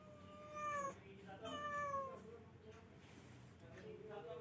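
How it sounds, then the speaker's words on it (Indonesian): A cat meows twice in quick succession, close and fairly clear, over a faint room hum during a university lecture on social change, followed by quieter background sound. "Ada kucingnya."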